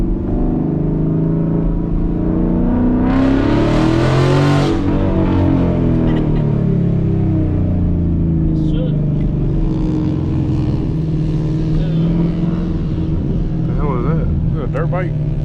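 A car heads home at night on a short five-minute drive, with a steady engine hum and road rumble heard from inside, the engine rising and falling with speed, while people talk over the noise.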